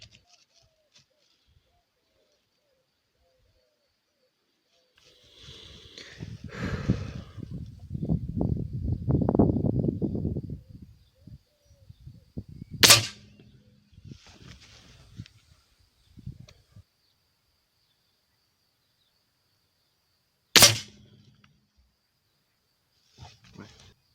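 HW97KT .177 air rifle firing flat-nosed pellets at a 25 m target, two sharp isolated cracks several seconds apart, with a loud rustling stretch and scattered handling noises between them.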